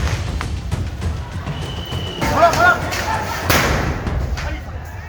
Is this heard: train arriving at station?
no